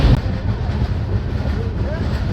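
A Chambal Express passenger train runs steadily at night after leaving Bardhaman, a continuous low rumble and rattle heard from inside the coach, with no pauses.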